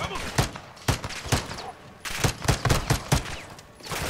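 Modern Warfare 2 campaign gunfire, in a border-crossing mission, sounds as repeated sharp shots in quick irregular bursts, fairly close and loud, with someone talking intermittently between them.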